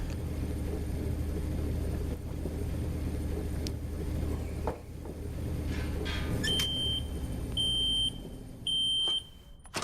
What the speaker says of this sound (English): It sounds like a microwave.